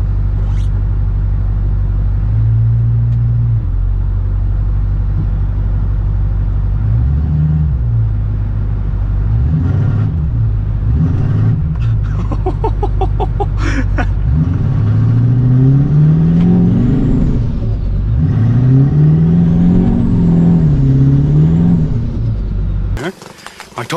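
A Ford truck engine revs hard while its tires spin in mud on a frozen recovery run, a loud, close, continuous roar that surges and dips repeatedly before cutting off abruptly at the end.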